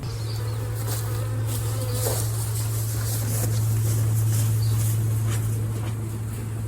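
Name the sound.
honey bees buzzing around hive during harvest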